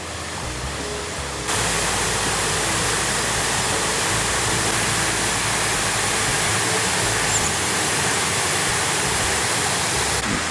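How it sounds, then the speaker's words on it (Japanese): Rushing water pours through a stream in a park, a steady loud broadband roar that starts abruptly after a moment and holds without pause to the end. "ああすごい、水の流れがすごい。"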